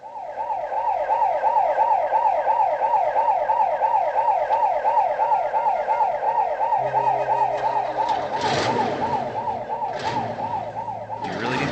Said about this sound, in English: You really need the siren?